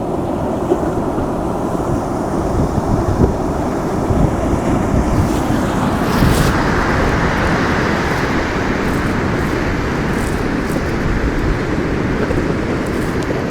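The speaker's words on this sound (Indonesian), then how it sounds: "Ini ombaknya bener-bener ganas banget sih ini." Big, rough surf crashes continuously on Pangumbahan beach, a dense roaring wash of breaking waves heavy with wind buffeting the microphone, loud and unbroken throughout.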